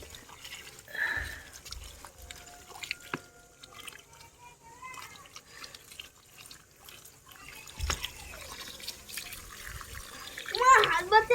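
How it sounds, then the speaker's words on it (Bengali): Water splashes and trickles over dragon fruit plants during garden watering, with irregular dripping and spattering that grows louder near the end, while a person talks intermittently. "আমার আগে ড্রাগন গাছে একটু জল দিয়ে দিই"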